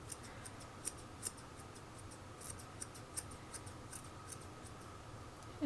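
Scissors snip repeatedly while point cutting and tapering the outer edges of a person's bangs, a series of crisp, quiet clicks at an uneven rhythm, close up in a calm room.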